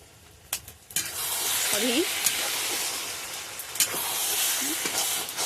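Food cooking slowly over gentle heat in a home kitchen is stirred, giving a steady close sizzle with scattered scraping clicks of the spoon against the pan and a few brief tonal squeaks.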